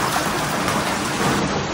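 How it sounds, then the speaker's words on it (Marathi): Heavy monsoon downpour during flooding in Vasai-Virar, a dense, steady roar of rain hammering surfaces, loud and unbroken throughout without any voices. "पावसाचा देवता एकदम प्रसन्न आहे, खूप पाडतोय"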